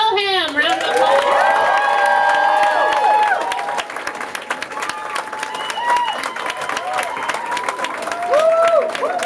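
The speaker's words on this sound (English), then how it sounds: "Round of applause." A comedy club audience applauds and cheers as a comedian, a US Army veteran, takes the stage: dense clapping with whoops and shouts, lively and close, mixed with voices throughout.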